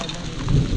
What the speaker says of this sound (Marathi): तिकडून वाजतच आलाय पाऊस